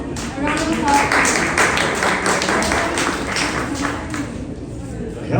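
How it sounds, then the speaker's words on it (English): An audience applauds at a ward candidate's meet-and-greet in a hall, giving a dense, steady wash of clapping with a murmur of crowd voices underneath. "A round of applause."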